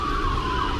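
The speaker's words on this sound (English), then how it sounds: "I'm sorry for the noise. It is sirens, dishes." An emergency vehicle siren wails in the distance, a faint steady tone over low city background rumble.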